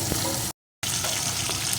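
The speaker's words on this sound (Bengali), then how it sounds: "এপিট ওপিট করে মাছগুলো আমি একটু ভেজে নিয়েছি" Small local fish fry in hot oil in a pan, giving a loud, dense, continuous sizzle interrupted by a brief silent cut partway through.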